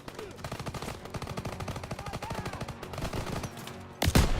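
Rapid automatic gunfire from Call of Duty: WWII, a dense rattling burst of shots running steadily for several seconds and ending in a louder, heavier blast, with no talk over it.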